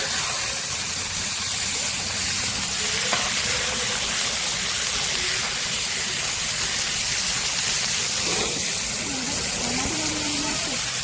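Fish frying in butter on a hot tawa gives a continuous close sizzle and hiss that holds steady throughout, with a voice faintly audible beneath it.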